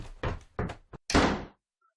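A bedroom door is slammed shut upstairs after quick running thumps, ending in one heavy bang. Everything is close and there is no talk.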